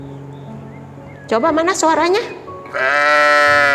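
Children in a Sunday school class imitate a sheep bleating, voices producing wavering, quavering baa sounds in a loud burst after an adult's brief spoken prompt, ending in a sustained group bleat.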